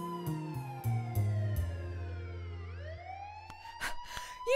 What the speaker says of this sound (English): That's when the sirens of police cars were heard.